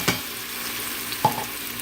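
Onion, garlic and ginger paste sizzles in hot oil with black cumin seeds, a steady close frying hiss broken by two sharp stirring clinks.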